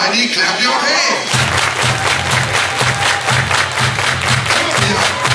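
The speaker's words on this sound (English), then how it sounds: "Everybody clap your hands!" A large crowd claps in unison with a steady beat, loud and sustained, right after a brief stretch of noisy chatter, at a summer camp variety show.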